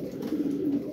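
Tumbler pigeons coo close by in a soft, low, continuous throaty rolling call.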